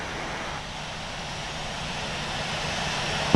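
Airbus A350-900 jet engines in Infinite Flight simulator game, Air France flight landing at Paris: a steady, even engine roar and airflow hum holding at constant level throughout, ending in a brief sharp click.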